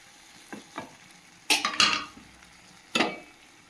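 Lote fish cooks in a pan on a low flame, with a soft background sizzle and a few distinct stirring scrapes and clanks against the pan, near and clear, no voices.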